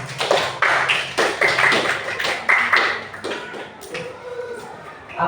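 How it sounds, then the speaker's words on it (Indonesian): Schoolchildren at an elementary school in Ranai, Natuna clap in a rhythmic pattern of short bursts, close and fairly loud, with a few separate taps near the end. "Tepuk tangan untuk kita semua."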